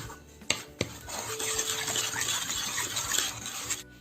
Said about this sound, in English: I'm going to mix this thoroughly